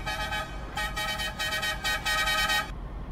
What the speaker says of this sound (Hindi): बहुत ही मज़ेदार हॉर्न है इसका